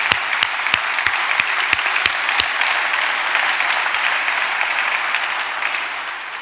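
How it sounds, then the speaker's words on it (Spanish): Church congregation applauding during a sermon, a dense steady wash of many hands clapping with a few sharper claps standing out, sustained throughout at fairly close range. "Dale un aplauso, fuerza a Dios"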